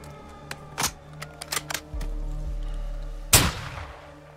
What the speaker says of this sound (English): Sir, they're returning fire.